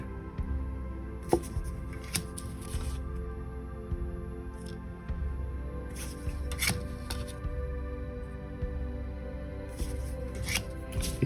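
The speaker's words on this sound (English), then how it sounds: "because they're plastic, they're going to shuffle beautifully, but they're slippery." Plastic playing cards being shuffled, quiet riffling bursts that recur every few seconds over a low steady hum, close and soft with no talking.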